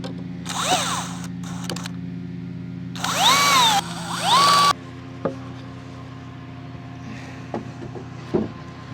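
A power drill whirs in short bursts, revving up and winding down as it drives screws into wood while building raised garden beds, with a few knocks and clicks in between.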